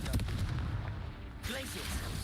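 The Confringo explosive spell blast from a video game rings out as a heavy low boom with a rumbling, crackling tail, then a sharper burst of debris-like noise near the end, loud and close over dense game ambience.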